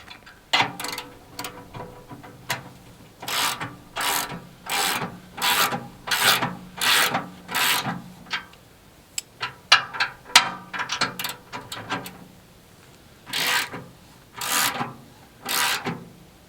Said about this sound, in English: let me find a ratchet and a socket, and we'll tighten this up